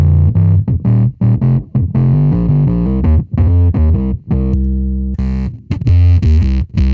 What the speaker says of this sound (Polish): Do tego można dodawać te przestery.